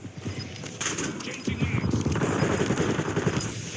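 Gunfire in a Call of Duty match, a dense rapid burst of automatic shots rattling nearby and continuing without pause, with faint game noise underneath.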